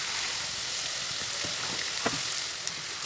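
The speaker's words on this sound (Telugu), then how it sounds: "నేను నూనెలో వేయించుకుంటున్నాను" Wheat flour gavvalu frying in hot oil over medium heat, heard as a dense, continuous close sizzle with a few small pops and stirring taps on top.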